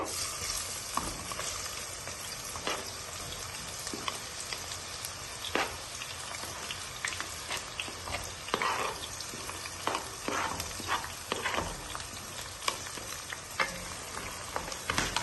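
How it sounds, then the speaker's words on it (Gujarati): Onions fry in hot oil with cumin for paneer bhurji, a bright crackling sizzle with frequent spatula scrapes and stirs in an irregular rhythm, close and continuous with no talking. "તો તેલ ગરમ થઈ ગયું છે, તો પછી આનિયન નાખી દઈશું એમાં."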